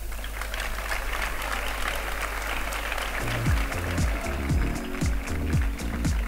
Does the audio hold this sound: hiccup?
no